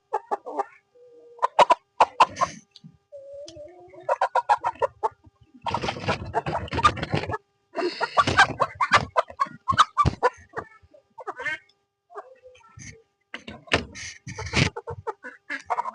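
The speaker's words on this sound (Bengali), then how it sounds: "দেখো খড়ির মুরগি বের করছি" Egg-laying hens being taken out of a coop cluck and squawk in close, agitated bursts, with flurries of flapping and scuffling between the calls.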